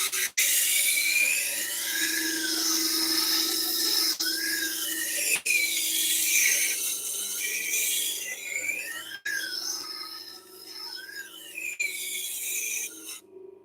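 A kitchen knife is ground on a Tormek water-cooled sharpening machine, a steady raspy scraping with squealing metallic overtones that continues close and loud, broken by a few brief pauses as the blade is repositioned.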